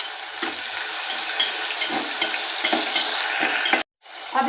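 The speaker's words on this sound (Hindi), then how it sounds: "इसको थोड़ा सा फ्राई करूंगी" Coriander, garlic and ginger paste fries in a pan with a steady close sizzle and repeated spoon-stirring scrapes, then cuts to silence briefly before the sizzle returns.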